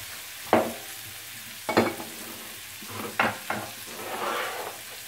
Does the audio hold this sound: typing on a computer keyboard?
no